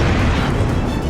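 An Israeli strike on a travel agency building in southern Beirut sets off a dense, loud roaring blast of explosion noise that fills the whole moment without a break.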